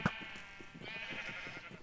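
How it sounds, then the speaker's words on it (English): Sheep in a Minecraft-style video game give a short, close bleat at the start, then a low game hum with faint soft blips continues. "We've got all the sheep there and all the different colours."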